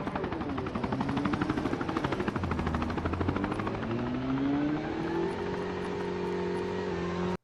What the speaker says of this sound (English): I can hear the chopper.